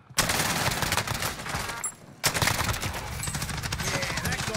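Gunfire in a shooter video game, with dense rapid automatic bursts running almost continuously and loud and close, a brief gap near the middle before firing resumes.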